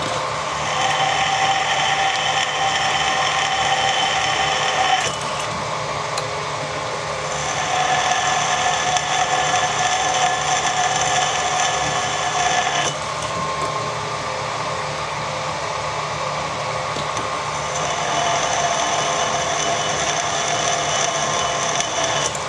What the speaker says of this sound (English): so that's a 5mm drill